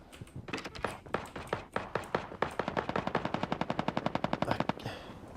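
Rapid automatic gunfire in the shooter game Ring of Elysium, bursts building into a long sustained run of sharp shots, moderately quiet, with no talk.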